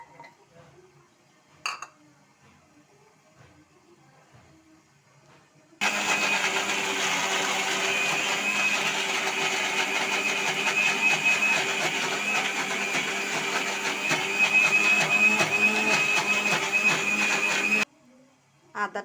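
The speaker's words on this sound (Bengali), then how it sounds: "সেগুলো আমি ব্লেন্ডারে ব্লেন্ড করে নিচ্ছি" A kitchen blender grinds sliced ginger in one loud, continuous motor whir lasting about twelve seconds, starting abruptly and cutting off sharply, with quiet kitchen sounds before and after.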